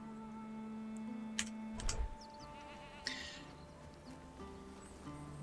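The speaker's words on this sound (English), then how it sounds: "A goat?" A goat bleats faintly in the Bellwright video game demo, a short wavering call amid quiet ambient game sounds with insect-like buzzing and soft background tones.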